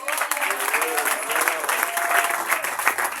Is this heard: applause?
yes